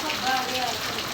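Heavy rain falls during a wet spell in Gujarat, a steady broadband hiss of drops splashing on surfaces, close and continuous throughout without pause.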